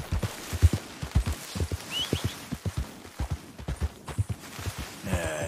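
Horse hooves clip-clopping in a steady walking rhythm in the video game Red Dead Redemption 2, with a brief high whinny midway and a faint breathy snort at the close.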